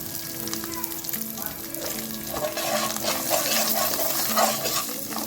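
Potato and spice mixture frying in a pan, a continuous close sizzle with stirring scrapes and soft bubbling throughout.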